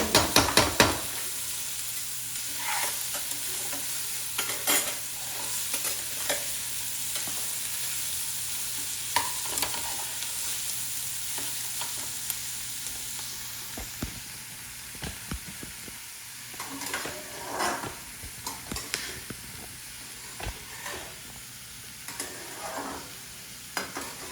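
Okra frying with fennel in a pan, a soft ongoing sizzle and hiss broken by intermittent scraping and stirring clatters, close up and fairly quiet, without speech.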